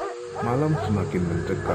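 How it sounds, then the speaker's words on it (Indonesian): A cartoon dog barking loudly at night, a few rough, strained barks that sound exaggerated and effect-like, with a voice speaking over them. "tiba-tiba terdengar suara gonggongan anjing yang cukup keras."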